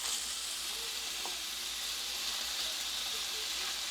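Steak bites sizzle in a pan with a continuous soft hiss and crackle, steady and fairly quiet, with a few faint stirring clicks and no voices.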